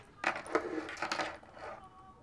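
Small dice clattering and rattling briefly on a hard surface, a quick cluster of sharp clicks that settles within about two seconds, heard alone.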